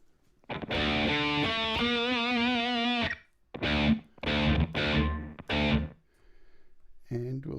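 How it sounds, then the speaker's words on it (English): Harmonic musical tones ring out in several bursts with a spacious reverberant tail after each phrase, a wash of reverb effect on the music. "We're just going to throw on just a classic reverb."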